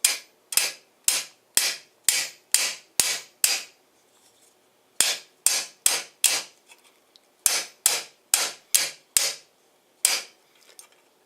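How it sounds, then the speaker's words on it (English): A lightweight hammer flattens the metal prongs of a 3D printer build plate, giving sharp, rapid taps in two or three bursts of about six to eight blows each, close and fairly loud, with brief pauses between. "I've got this lightweight hammer"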